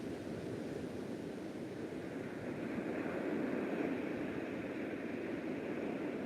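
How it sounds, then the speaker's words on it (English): Soft, steady ocean waves wash in a continuous broadband rush, swelling slightly louder midway and holding there, with no voices, during a quiet moment of a calm yoga relaxation session. "Notice the ocean sound."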